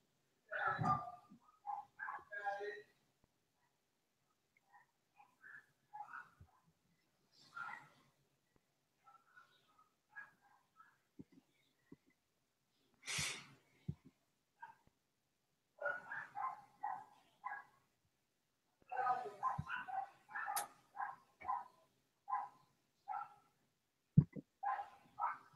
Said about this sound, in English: That's your background with them dogs?